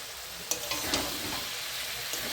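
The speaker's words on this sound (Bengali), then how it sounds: "সয়াবিন আলুকে আমি কিছুক্ষণ ধরে কষিয়ে নেব।" Soybean chunks and potatoes sautéed in hot oil in a home kitchen for a vegetarian curry, giving a steady, close sizzle with a few sharp stirring clicks and scrapes near the start.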